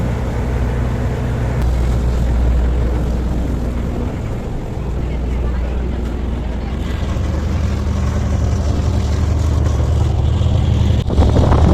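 A passenger launch travelling on a river, its engine giving a continuous loud low drone with a steady wash of water and wind, heard from on board.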